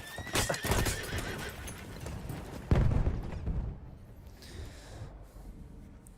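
A horse in the video game Battlefield whinnies loudly with hoofbeats clopping beneath, then a heavy thud before the sound settles into quieter background rumble.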